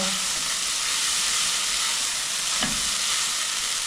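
Samosa filling with garam masala sizzling in a pan while being stirred, a dense continuous frying hiss with a brief scrape of the spoon partway through.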